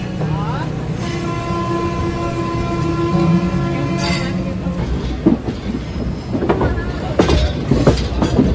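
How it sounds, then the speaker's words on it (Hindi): MEMU passenger train from Samastipur to Katihar passing at a junction, loud rumbling wheels and rhythmic clattering over rail joints, with a horn-like tonal drone and brief squeals, crowd voices and talk mixed in. "ये शायद समस्तीपुर से कटिहार तक जाने वाली मेमू पैसेंजर ट्रेन है।"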